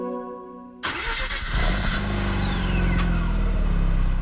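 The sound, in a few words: rotary car engine starting, video game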